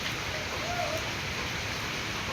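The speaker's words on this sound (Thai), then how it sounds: "น้ำไหลหลวง ไหลเข้ามาเลย" Floodwater from overnight rain pouring into a house in Thailand, a steady, dense rushing and hissing of flowing water that stays constant and fairly close throughout, with no pauses.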